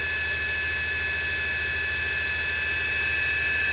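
A Rivett 608 lathe fitted with a traverse milling attachment runs at its top speed of 1500 RPM, giving a steady, continuous mechanical whine with high tonal hum over a low drone, constant in level and close by.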